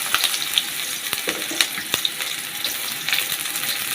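Chopped onions fry in hot oil with a dense, continuous sizzle and crackle, punctuated by sharp pops and occasional stirring clicks, close and fairly loud.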